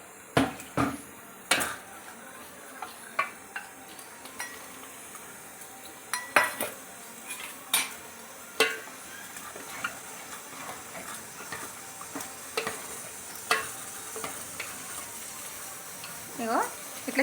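Gram flour being stirred into simmering mutton bone charu in a pot, heard as sparse ladle scrapes and clinks against the vessel over a faint bubbling hiss, with no one talking.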